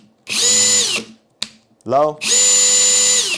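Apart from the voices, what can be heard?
Metabo HPT Multivolt 36v hammer drill running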